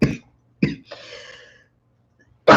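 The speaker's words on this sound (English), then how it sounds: "Why am I coughing?" A person gives a few short, separate coughs close to the mic, with a brief throat-clearing rasp between them in an otherwise quiet room.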